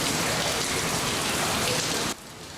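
Heavy rain pours down in a dense, loud, steady roar during a thunderstorm in Kaohsiung, dropping slightly in level near the end.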